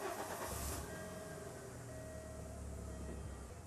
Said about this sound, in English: So the first thing I'm going to do is go ahead and start this engine.